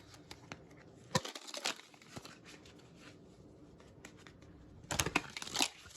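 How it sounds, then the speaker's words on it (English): A deck of playing cards being shuffled and flipped, giving scattered crisp riffles and papery snaps with louder bursts near the start and end, close and alone. "So let me flip. Keep flipping. Keep shuffling."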